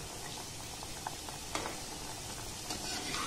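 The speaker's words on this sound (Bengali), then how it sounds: "গ্যাসের ফ্লেমটাকে একদম লো রেখে বিস্কিটগুলোকে ভাজতে হবে।" Biscuits frying in oil over a low gas flame give a dense, continuous fizzing sizzle with small pops, steady and close, with no voices.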